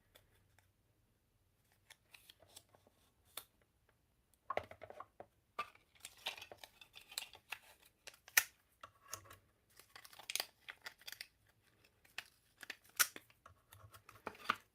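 Scissors snip through paper for a homemade stamped card, a series of crisp close cuts with short pauses, some paper rustling between them, over a faint low hum.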